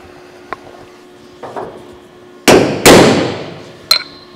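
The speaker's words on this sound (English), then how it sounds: "bigger hammer, and I'll give that a good blow in the corner to just lift this outside edge up" A large hammer strikes the steel roof edge of a 1970 Holden HG ute during rust repair: a small tap, then two loud close metallic blows that ring out, followed by a lighter clank, with no talking.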